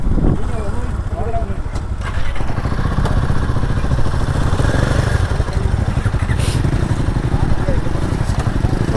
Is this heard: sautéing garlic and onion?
no